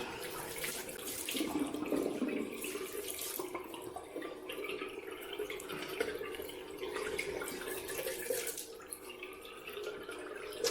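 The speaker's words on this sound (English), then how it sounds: "So I rinse off with warm first, and then I go with cold." A tap runs steadily into a sink as warm and then cold water rinses the face after a shave with an Edwin Jagger DE89 razor, splashing faintly with small drips and surges of flow.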